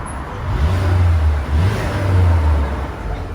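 A Mercedes A250 four-cylinder engine revs in two long surges with exhaust valve open, a deep, droning exhaust growl, heard from outside the car at close range.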